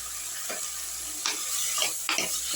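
Brinjal pieces fry in hot oil with tomato in a pan for sambar, a constant close sizzle broken by a few scraping stirs of a spoon.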